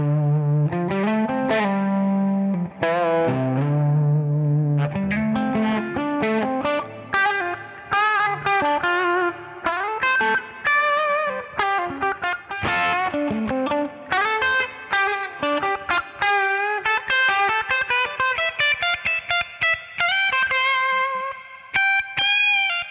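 Electric guitar fitted with humbucker and single-coil pickups, played alone as a long run of bright, clean-to-slightly-driven picked notes and chords, close and loud, with a steady melodic rhythm throughout.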